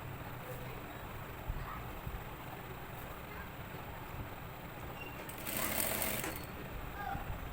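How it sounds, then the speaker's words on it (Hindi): A sewing machine stitches fabric for a neck design, a steady low mechanical whirr running throughout with a brief louder burst near the end. "थोड़ा हटाकर फिर सिलाई लगा रही हूँ इसके ऊपर ना"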